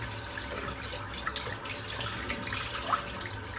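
Water runs steadily into a sink while a Mühle & Fils 28mm three-band blonde badger shaving brush and a soap tub are rinsed under it, with soft splashes and no talking.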